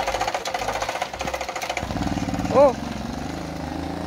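A small engine fires up after a spark plug change, chugging in a rapid uneven putter near the microphone, briefly faltering then settling into a rough idle while people exclaim over it.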